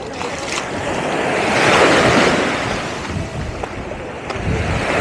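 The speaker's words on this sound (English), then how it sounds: "Real nice clean beach" Surf washes onto a beach in Phuket, Thailand, with a broad, steady roar that swells and recedes, mixed with wind buffeting the microphone.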